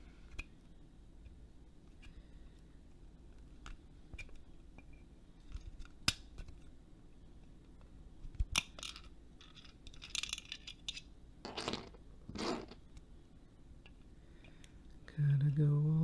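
Scissors trimming the plastic barrel parts of a Nerf Mega Cycloneshock blaster at close range, giving quiet scattered snips and clicks over a soft background, with a louder rustle at the very end.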